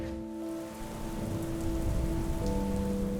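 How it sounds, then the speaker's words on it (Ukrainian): Heavy rain pours down in a steady, dense hiss over a low rumbling bed, continuous and close throughout, with no voices. "над головою збираються темні хмари, які напружують самі по собі, і починається злива"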